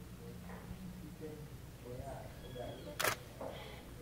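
A single sharp camera shutter click cuts through near the end, brief and close, with voices talking around it.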